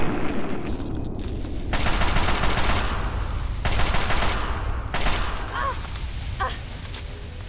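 Sustained bursts of rapid assault rifle fire in Fallout 3, loud and close, with brief pauses between volleys and a few metallic clicks near the end as the worn rifle starts jamming.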